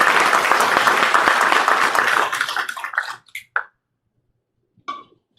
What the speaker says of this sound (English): I think it's appropriate for us to give a round of applause to all of these hardworking volunteers.